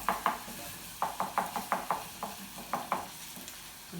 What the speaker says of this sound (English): this is frying off nicely